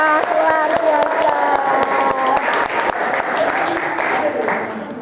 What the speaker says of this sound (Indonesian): aplaus luar biasa